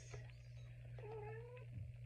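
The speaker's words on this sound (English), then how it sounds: "I got kitties in the background" House cats meow in the background of a quiet indoor room, one drawn-out meow and a brief follow-up call, faint and distant over a steady low hum with no talk.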